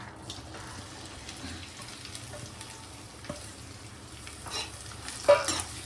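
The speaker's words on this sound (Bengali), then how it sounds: "এর মধ্যে আমি আগে থেকে কুচিয়ে রাখা পেঁয়াজটা দিয়ে দিচ্ছি" Chopped onions go into hot white oil in a pan while mutton biryani is cooked, giving a faint, steady sizzle broken by a few soft clatters and a louder stir near the end.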